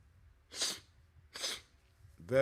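A couple of sharp breathy bursts followed by a short voiced sound, like a stifled sneeze up close in a quiet room.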